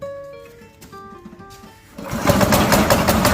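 A petrol engine on a fodder chopper with an unusual engine type revs up, loud and rough, after a quieter stretch of tonal, clattery sounds.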